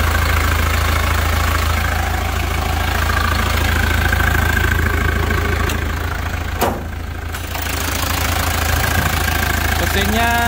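A 1983 Toyota Hardtop BJ40 4x4 with its original B-type diesel engine idles steadily up close, a continuous low knocking rumble, with someone talking briefly over it.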